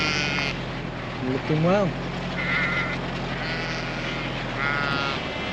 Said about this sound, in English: Had quite a good lambing, lots of lambs about